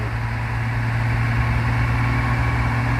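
A brown Fuso truck's engine drones steadily on a hilly road, a loud continuous low rumble with constant hum and no pauses, no voices.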